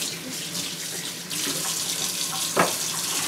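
A kitchen or bathroom tap runs steadily while hands are washed under it, a close, continuous splashing stream with a brief louder splash near the end and no talking.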